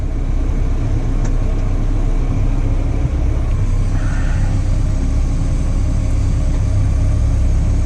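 Tractor crossing a slurry spreading pipeline laid across a field, its engine a steady loud rumble throughout with no breaks or talk.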